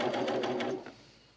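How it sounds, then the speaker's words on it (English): An overlocker sewing lace onto leggings buzzes in one short, close run of under a second, then winds down and stops. "I'm going to overlock this."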